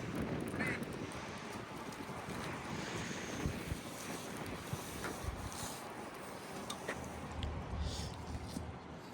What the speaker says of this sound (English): A little breezy.